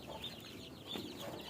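Chickens clucking, with a few soft, fairly close clucks and short calls over a quiet background.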